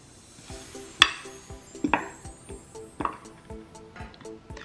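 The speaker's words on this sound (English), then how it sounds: "Mix everything with a fork." A fork stirs dry yeast, salt and pumpkin spice in a bowl, giving a rhythmic run of soft scraping strokes with a few brighter clinks against the bowl, quiet and close.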